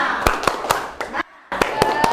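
A classroom group does rhythmic spirit clapping, tepuk semangat: sharp, loud, evenly spaced claps in a patterned beat, broken by a brief silent gap before the rhythm resumes, with voices in the background.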